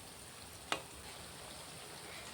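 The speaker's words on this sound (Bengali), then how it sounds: "একটু লাল পাড়া করে ভেজে নেবেন, তাহলে খেতেও ভালো লাগবে।" Taler bora fritters fry in a pan of oil, giving off a soft, steady sizzle heard close up, with one brief sharp click early on.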